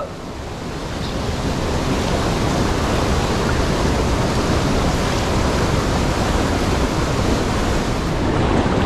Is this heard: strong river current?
yes